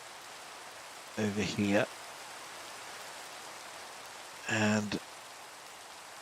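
Constant hiss of rain falling in Minecraft, a soft, even wash throughout, with a person briefly speaking over it twice.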